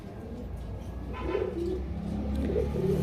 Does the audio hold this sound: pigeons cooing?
yes